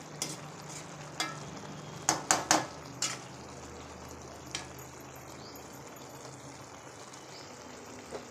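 Ridge gourd and meal maker curry simmering in oil in a pan, a steady low bubbling sizzle with a handful of sharp clinks and stirring taps clustered early, then settling into gentle continuous frying.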